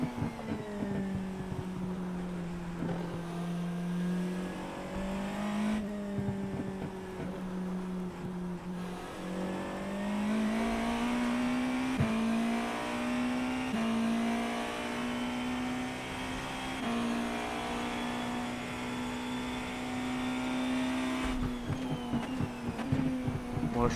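A race car engine in the iRacing simulator drones loudly and steadily, rising in pitch as it accelerates and dropping briefly at a few gear shifts, with rougher bursts and rumbles from the track surface.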